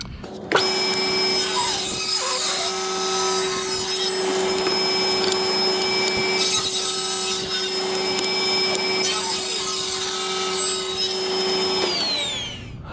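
Table saw blade spins up and cuts through a wooden cabinet trim piece, a loud steady whine with a sustained tone running for about eleven seconds before winding down.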